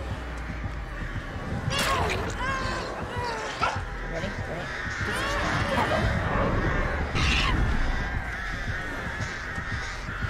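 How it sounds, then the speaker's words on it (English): A dog barks excitedly in a home, giving a series of yips and barks mixed with whimpers. People talk over and around the barking throughout. "Dog is going crazy"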